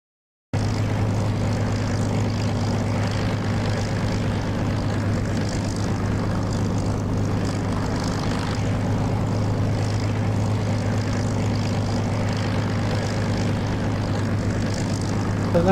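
A propeller aircraft engine runs in the DCS flight simulator game, holding a steady, loud droning hum with a strong low tone that continues without a break.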